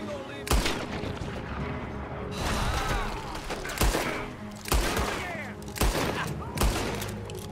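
Repeated gunshots ring out in a Red Dead Redemption 2 firefight, sharp cracks landing about once a second over continuous rumbling background action, with voices faintly mixed in.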